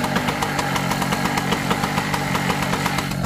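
A generic Chinese two-stroke generator engine runs steadily under a load test at close range, a loud, buzzy, rapidly pulsing drone with a regular knocking rhythm and no voices over it.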